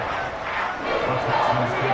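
Steady roar of a stadium crowd in a Texans versus Cardinals football video game, a broad continuous wash of cheering that swells slightly louder toward the end, with no talk over it.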